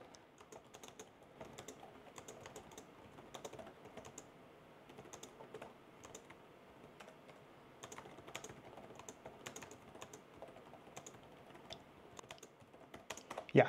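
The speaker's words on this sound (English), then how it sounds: "let's give it a quick typing test" Steady typing on an MSI Bravo 15 laptop keyboard, quick soft key clicks in an irregular rhythm, close and fairly quiet, with a slightly louder flurry at the end.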